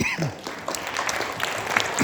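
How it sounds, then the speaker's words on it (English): A room of guests at a ceremony for a newly elected council member applauds warmly and continuously, many hands clapping at once at moderate distance, with a few voices mixed in. "let's join hand, give her the big applause"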